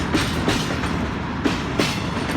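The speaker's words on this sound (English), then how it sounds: "there's a load of train carriages carrying the new vaccine" Train carriages roll past on a railway line near a pub in Wrexham, a steady loud rumble with rhythmic clickety-clack wheel beats every half second or so.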